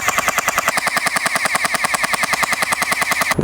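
A low-budget gel blaster toy gun fires gel bullets in a rapid automatic burst, loud and close, with evenly spaced shots clattering for about three seconds before stopping.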